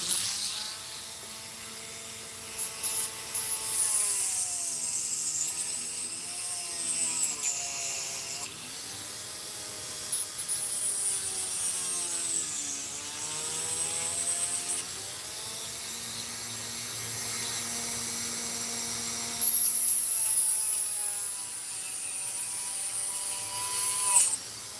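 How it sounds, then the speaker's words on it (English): Hand sanding of a 1970 Chevelle restomod body kit part, slowly fitting the panel with steady, rhythmic back-and-forth strokes heard up close and alone. "going to have to sand fit through here, just slowly taking your time, sand fitting right through here"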